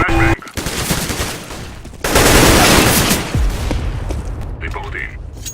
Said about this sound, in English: Insane, man. Flashbang.